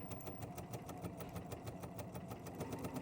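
A BERNINA sewing machine runs steadily, stitching a Spanish hemstitch with a swinging needle in a fast, even mechanical chatter, close and fairly quiet, with no talking.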